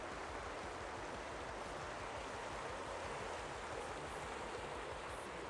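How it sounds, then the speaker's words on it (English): The Hellyer River flowing near its junction with the Arthur River: a steady, unbroken rushing wash of water, moderately faint and heard alone without voices. "that is the Hellyer River."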